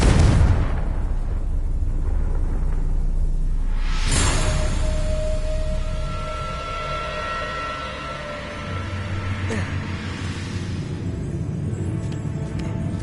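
Confringo blasting spell exploding in Hogwarts Legacy: a loud close boom opens, a second heavy blast follows a few seconds later, and a low rumble and crackling debris trail off between them.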